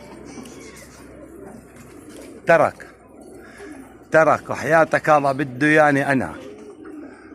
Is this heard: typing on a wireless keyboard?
no